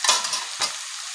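Chopped pointed gourd lands in hot oil with a bright hissing sizzle, then two quick stirring scrapes as the frying settles into a steady hiss.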